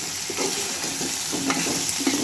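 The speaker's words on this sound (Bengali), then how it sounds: "আরও ভালো করে ভেজে নিতে হবে বাজার শেষে পুঁই শাকটা দিয়ে দিবে" Malabar spinach (pui shak) stirred and fried in a pan with salt and turmeric, a steady close sizzle with repeated scraping stir strokes and no talking.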